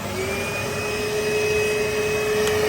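A Numatic Henry NRV200C2 hoover vacuum cleaner runs at full power, a loud, steady close-up motor roar with a constant whine that holds throughout and rises slightly toward the end, with no voices.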